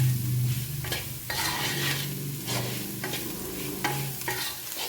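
Garlic sautéed on a low flame for pickle, with a steady close sizzle and repeated scraping stirs of a utensil against the pan, no voices.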